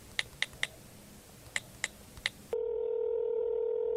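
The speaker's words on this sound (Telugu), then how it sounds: "ఇప్పుడు నేను వానికి ఫోన్ చేసిన" A phone number being dialed: two quick bursts of touch-tone beeps, three then three, followed by a steady, continuous line tone held to the end.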